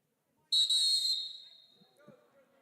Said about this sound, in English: blowing that whistle with some aggression